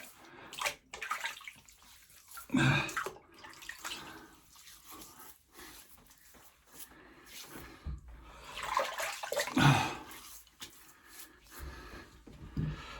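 Water splashes and trickles as a shaving brush is wetted, with intermittent running and dripping bursts at close range, fairly quiet with pauses between pours.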